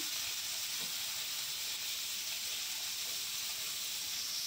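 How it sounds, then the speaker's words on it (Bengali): Crabs frying with salt in a pan give off a steady, even hiss, unbroken and moderately quiet, with no voices. "লবণ দিয়ে কাঁকড়াগুলো ভেজে নেব"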